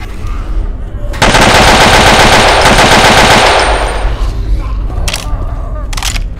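Loud automatic gunfire in a video game, a sustained close burst lasting about three seconds, then quieter scattered shots and background game noise, with faint voices.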